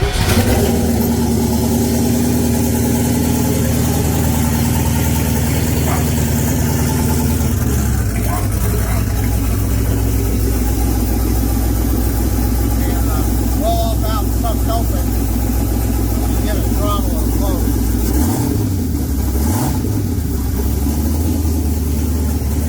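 A 1996 Camaro with a turbocharged, GT45-boosted 5.3 V8 swap idles loud and steady throughout, with a dip in pitch partway through and a brief blip near the end, while people talk nearby.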